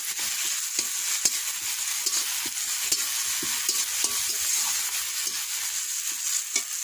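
Chicken frying in a pan with ginger paste and garlic paste stirred in, a continuous loud sizzle with scraping stirs and small taps of the spoon throughout, no voices.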